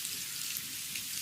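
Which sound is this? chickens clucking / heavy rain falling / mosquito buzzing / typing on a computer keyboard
heavy rain falling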